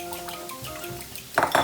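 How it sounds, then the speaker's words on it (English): A fork beats a couple of cracked eggs in a bowl for a waffle-maker frittata, with soft scraping and then two quick bursts of bright clinks against the side near the end, close and fairly quiet. "Give it a little mix."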